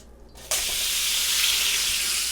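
Top sirloin steak hits a hot frying pan with a sudden loud sizzle after a quiet moment, then sears in a steady, bright hiss that holds close and even.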